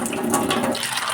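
Water running steadily while split peas are washed, a brief close rush of flowing water with no talk.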